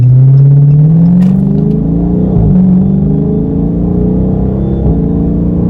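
A Dodge Charger Scat Pack accelerates through highway traffic, its engine note climbing in pitch with a loud, steady rumbling roar that briefly dips as it shifts, then keeps pulling hard, heard close from inside the car.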